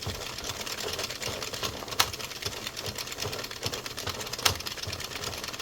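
An Addi 22 circular knitting machine knitting rows of a sock: a steady, rapid mechanical clatter of needles turning, running continuously at moderate volume, with a couple of sharper clicks along the way.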